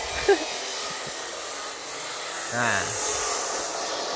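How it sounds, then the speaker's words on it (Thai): A steady hissing, crackling roar of welding steel runs throughout, broad and continuous like arc welding up close, with a brief pitched whine partway through. "ไล่เชื่อมให้มันเต็มหน้าเหล็กครับ"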